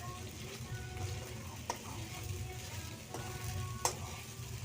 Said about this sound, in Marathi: गॅस मोठा करायचा आणि चांगलं परतून घ्यायचं.